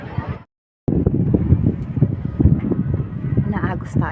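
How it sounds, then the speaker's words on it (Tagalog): Strong wind buffeting the microphone aboard a boat out on the water, a loud rough roar that cuts out briefly near the start, with people talking over it. "Malakas yung hangin."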